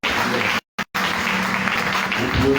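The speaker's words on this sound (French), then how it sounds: "Acclamez pour vous-même." A youth convention audience breaks into loud, close applause, a dense wash of clapping that stops abruptly for a moment and then resumes strongly.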